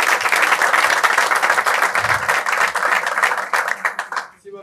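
Dense audience applause at a Turkish political rally, loud and continuous with many hands clapping together, fading out at the end.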